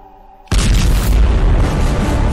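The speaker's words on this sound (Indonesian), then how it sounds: "ide ini pun berakhir dengan sebuah ledakan" After a faint hum, a sudden loud gas explosion, set off by lighting a stove with a lighter, bursts out, its deep rumbling roar sustained and slowly fading over the next two seconds.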